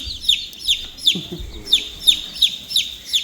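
Cold chickens give a steady series of about eight short, high, chirping calls in an even rhythm, fairly close, over faint low background rumble.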